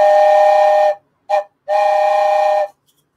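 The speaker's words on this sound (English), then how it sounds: "Here comes the whistle. Cover your ears." A loud, shrill steam whistle at a coin auction, sounding in three bursts: a long blast, a short toot, then another long blast, with no voices.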